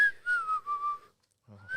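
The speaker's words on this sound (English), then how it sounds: "I don't think whistling's going to do it" A single person whistles a clear, sustained descending tone for about a second, pauses briefly, then starts whistling again, close and alone with no talk.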